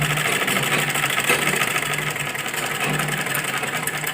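A sewing machine stitches lining onto a blouse neck, its motor whirring in a continuous, steady buzz with a fast mechanical rhythm, close and fairly loud with no voices.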